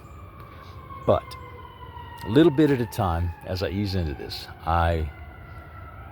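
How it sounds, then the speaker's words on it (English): A faint, steady siren tone drones far off in the background while someone speaks in the foreground. "You can hear the sirens in the background."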